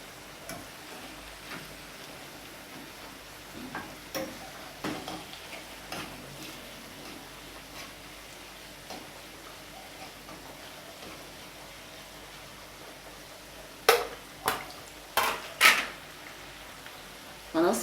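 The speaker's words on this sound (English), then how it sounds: "So I'm just basically warming up the corned beef" Corned beef (bully beef) and cabbage fry gently in a pan, a faint sizzle under scattered stirring taps, with a few louder clacks near the end and a voice talking over it.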